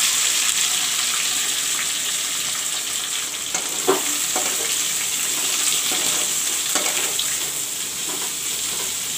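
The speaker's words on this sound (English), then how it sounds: "Let the onions fry." Chopped onions fry in a pan for a brinjal and potato curry, giving a steady broad sizzle throughout with a few soft stirring knocks, close and even, with no talking.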